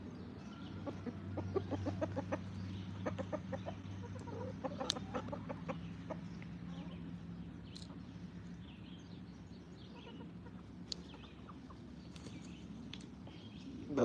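Clucking from a rooster repeats in quick bursts over a continuous low drone of cattle feeding nearby, with occasional sharper calls and a steady farmyard background.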